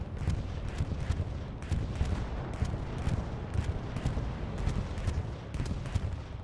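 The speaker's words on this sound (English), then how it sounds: "Here goes that bombing run." A bombing run of explosions in a multiplayer war video game, a long series of rumbling blasts and booms rolling one after another for the whole stretch at moderate, distant-sounding loudness, with no talk.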